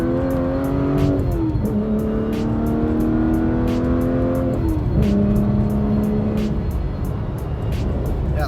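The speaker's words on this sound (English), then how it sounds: "So that right there is the 460 horsepower in action." An Aston Martin Vanquish with a 460 horsepower V12 engine accelerating hard, its loud, close engine note climbing through the revs in repeated rising sweeps, with brief dips at the gear changes.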